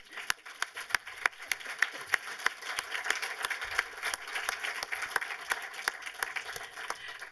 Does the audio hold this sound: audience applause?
yes